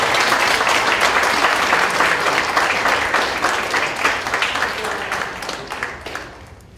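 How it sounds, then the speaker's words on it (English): Loud, dense applause from the audience at a Southampton County school board meeting, honoring the Southampton High School Student of the Month; sustained for several seconds, then thinning and fading toward the end. "Let's give him a round of applause"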